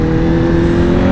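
A Honda CBR1000RR motorcycle engine held at steady high revs on the throttle, a loud, continuous droning roar filling the short moment with no voices.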